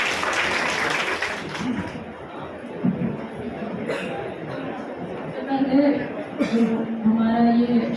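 Audience applause at a city service camp event in India, with scattered clapping and crowd chatter rising and falling over several seconds while a voice talks in the background.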